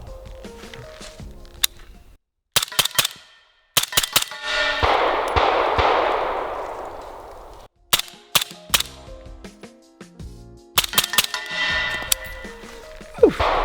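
Gunfire at a shooting range crackles in sharp bursts of rapid close shots, separated by silent gaps, with one long rushing hiss in the middle and metallic clangs between volleys.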